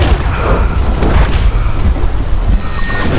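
A dynamite explosion in the Western shooter game Call of Juarez: Gunslinger, heard as a loud, dense boom with a low rumble that carries through the whole stretch, with no talking over it.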